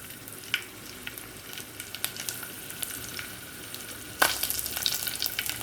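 Garlic cloves frying in a pan with fenugreek seeds, cumin and curry leaves for gongura pachadi, giving a quiet sizzle with scattered spoon clicks, then a louder burst of frying near the end.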